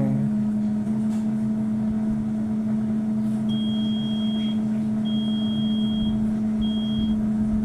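A countertop oven hums steadily while baking pork belly, then its timer finishes with a series of high, clear electronic beeps, two long tones and a shorter one, over the constant drone.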